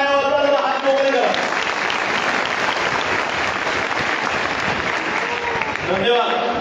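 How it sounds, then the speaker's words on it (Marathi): Audience applause at a public gathering honouring the organisers, loud sustained clapping from a crowd lasting several seconds, with a voice speaking briefly at the start and again as it fades. "एकच फक्त या ठिकाणी टाळ्या वाजवायला हात मोकळे करा"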